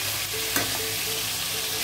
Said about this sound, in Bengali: চিকেনটাও যেন ভালোভাবে ভাজা হয়ে যায়